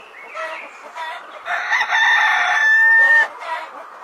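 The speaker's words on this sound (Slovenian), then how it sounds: "Takole nas petelinček na kmetiji zbudi." A single loud, close rooster crow on a farm rises and holds a long, drawn-out final note, framed by brief clucks.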